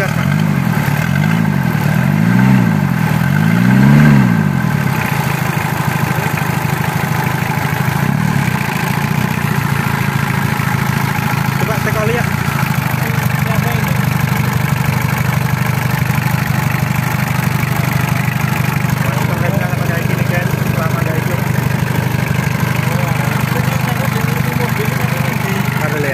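A Ford Ranger or Mitsubishi Triton pickup engine revs in a few quick blips at the start, then settles into a steady, rumbling idle that runs on close by while people talk nearby.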